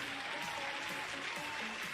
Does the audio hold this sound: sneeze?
no